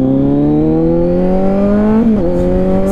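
A red 2023 Kawasaki Z900 motorcycle engine revs loud and close, its pitch climbing smoothly, then it dips briefly after a short blip before holding steady. No talking.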